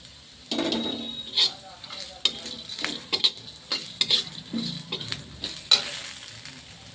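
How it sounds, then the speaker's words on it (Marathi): Whole spices (khada masala) roasting in a pan for a patavadi rassa curry, stirred with repeated scraping and clinking strokes over a soft, constant sizzle. "आपण घेऊ याच्यामध्ये खडा मसाला आणि त्याला पण भाजून घेऊ।"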